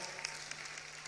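An audience at a NELEF 2025 gathering with dignitaries claps in a brief, steady burst of dense applause.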